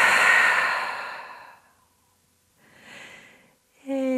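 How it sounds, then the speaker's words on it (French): One long, breathy exhale through the mouth during a yoga breathing exercise, loud at first and fading over about a second and a half, followed by quieter breaths in a calm, silent room. "Et grande expiration par la bouche."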